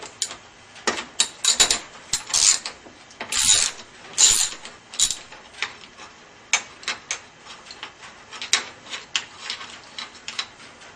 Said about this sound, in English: I'm going to take a ratchet, and this is a 13 millimeter, and I'm just going to go ahead and remove the bolts.